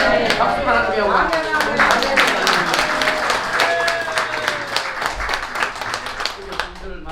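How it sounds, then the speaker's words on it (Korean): A Korean church congregation at Immanuel Church's worship service marking the 104th anniversary of the March 1st Movement claps in a dense, continuous round of applause, with crowd voices and speech mixed in throughout. "박수로 하나님께 영광."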